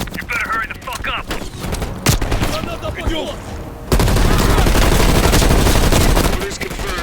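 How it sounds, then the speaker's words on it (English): Heavy machine gun fire in the Call of Duty Black Ops Cold War video game, with bursts of rapid shots under radio chatter, then a sustained loud barrage of continuous fire in the second half. "Heavy MG on the ridge."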